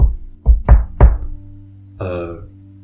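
Three sharp knocks in quick succession on a hard surface, loud and close, followed by a brief hollow thud about a second later.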